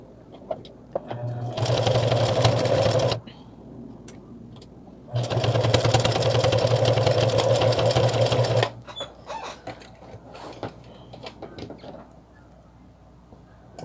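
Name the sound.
sewing machine stitching fabric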